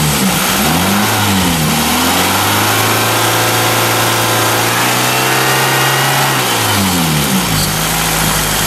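Seventh-generation Toyota Celica GTS engine running while coolant is bled from the radiator: a loud, close, steady idle with a smooth rev that climbs, holds, then drops back, followed by another brief blip.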